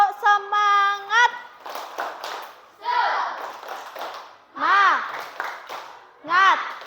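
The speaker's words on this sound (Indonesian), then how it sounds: "coba kita tepuk semangat" A classroom group performs a rhythmic spirit clap, with short bursts of clapping mixed with voices chanting along in a lively call-and-response pattern.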